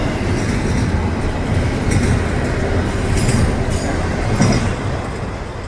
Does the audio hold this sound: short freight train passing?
yes